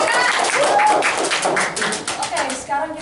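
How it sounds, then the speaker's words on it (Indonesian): Applause at a meeting for the national badminton team, a dense steady patter of hand claps from a room full of people, fairly loud throughout and fading a little near the end. "Boleh tepuk tangan untuk tim bulu tangkis kita?"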